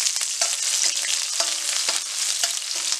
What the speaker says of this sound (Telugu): ఒక ఆనియన్ని ఇలా ఇలా స్మాల్ స్మాల్ పీసెస్గా కట్ చేసుకొని వేసుకొని ఫ్రై చేసుకోవాలి.